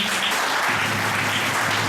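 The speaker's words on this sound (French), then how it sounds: "On l'applaudit" An audience at a French high school prize-giving ceremony claps steadily for a student called to the stage, a dense, even wash of applause with a low hum beneath it throughout.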